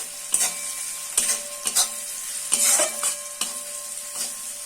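A spiced tadka mixture for a Bengali dal of boiled kalai is stirred in a hot pan, giving repeated rhythmic scraping strokes over a steady close sizzle.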